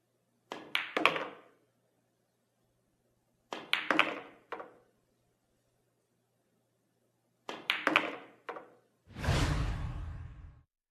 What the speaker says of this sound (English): The shot is performed by striking the cue ball just below center.